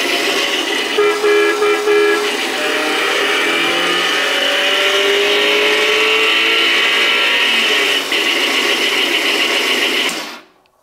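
A chain-drive Power Wheels hot rod toy car gives a loud, close electric motor whine with chain rattle, surging under acceleration before cutting off abruptly near the end.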